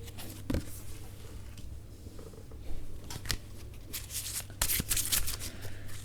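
Tarot cards drawn from a deck close up: soft, quick rustles and snaps of handled cards at scattered moments over a low background hum.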